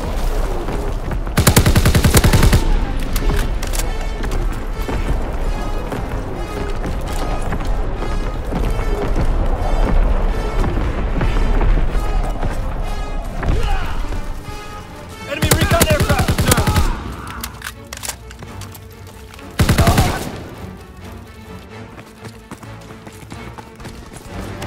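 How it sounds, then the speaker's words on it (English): Call of Duty WWII battle with heavy artillery and gunfire, a loud continuous roar of rapid shots and blasts, with several big booming impacts standing out, and voices faintly under the din. "Incoming enemy artillery!"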